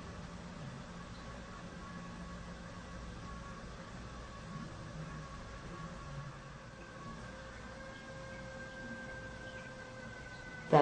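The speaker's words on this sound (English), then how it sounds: "That odd noise you're hearing right now is the radiator." An indoor radiator gives off a steady, faint hiss and hum with thin tonal whines that drift in pitch, then ends with a brief click.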